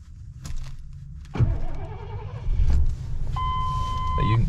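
A 1983 Lincoln Continental Mark VI cranks and fires up with a brief starter burst settling into a low idle, followed by a steady electronic chime, heard from inside the car with someone speaking.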